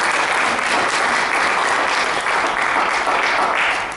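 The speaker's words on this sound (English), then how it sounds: "Give this lady a round of applause" Loud, dense audience applause fills the room without pause, a steady wash of many hands clapping at a therapy talk and demonstration.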